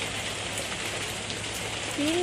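Steady rain falls in an even, continuous hiss, with a faint voice starting up near the end.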